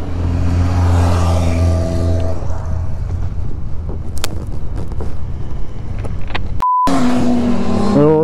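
A long procession of motorcycles in a demonstration rolls through a town, engines droning and revving loudly nearby, with wind buffeting the microphone and a brief beep near the end.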